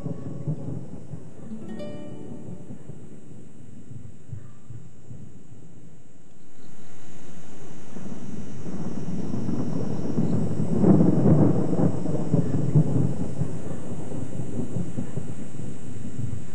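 Monsoon rain falls on open grassland on an early summer afternoon, a soft hiss that swells after a few seconds into a steady, heavier wash with low rumbling beneath, fairly close and without speech.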